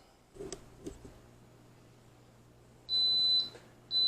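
After a couple of soft knocks, an Instant Pot timer beeps twice, a high electronic tone about half a second long each and clearly audible.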